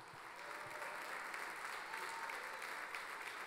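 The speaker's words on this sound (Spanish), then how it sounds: "fuerte el aplauso para presentar a Fabio González." Steady, dense applause from the audience at a live tango show in Bahía, filling the whole stretch at an even level without any voices on top.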